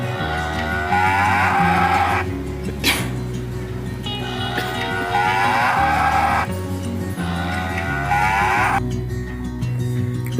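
A cow moos loudly three times in long, drawn-out calls separated by short pauses, standing clear over a steady musical backing.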